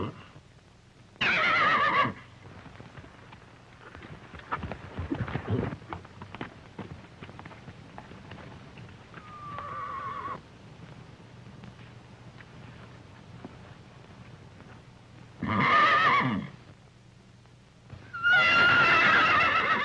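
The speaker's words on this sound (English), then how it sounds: "Something's the matter with that horse." A horse neighs in several loud whinnying bursts spread over the scene, with quieter shuffling and faint hoof sounds between them, no speech.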